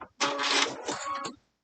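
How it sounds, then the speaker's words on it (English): A Gemini sewing machine stitches fabric for a log cabin quilt block in one brief, close burst of rapid mechanical whirring that lasts about a second, then stops. "I'm just going to stitch till I'm one stitch off"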